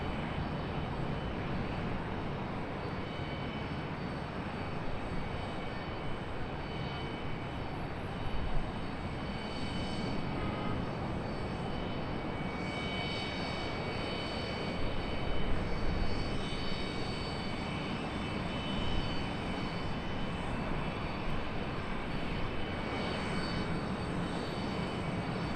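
JetBlue airliner with a wrapping paper tail at Charlotte Douglas International Airport, a faint, distant, continuous engine rumble with slight swells, no talk.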